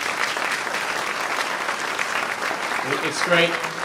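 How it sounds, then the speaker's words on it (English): An audience at a school dedication ceremony breaks into a sustained round of applause, dense clapping from a crowd filling the whole moment, with a voice briefly speaking over it toward the end. "let's give them a round of applause as we welcome them."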